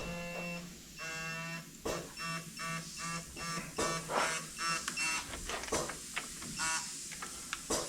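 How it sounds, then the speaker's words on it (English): A digital torque wrench tightening the front wheel axle nut on a 2006-2014 Ford Edge or Lincoln MKX gives repeated electronic beeps mixed with sharp ratcheting clicks, close and fairly loud. "So I have my gear wrench, torque wrench here."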